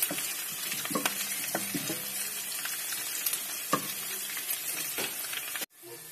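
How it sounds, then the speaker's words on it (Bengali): Onions sizzle and crackle steadily in hot oil for a chicken jalfrezi, with occasional sharp clinks from stirring, the frying continuous and close before a brief drop near the end. "তেল গরম হলে আপনি পেঁয়াজটাকে ঢেলে দেবেন। পেঁয়াজটাকে একটু লাল করে ভাজতে হবে।"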